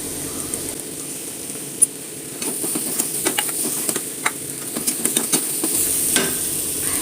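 A curry mixture with salt being stirred and fried in a pan: a steady soft sizzle runs under repeated scraping and clinking strokes of a spoon against the pan, close by.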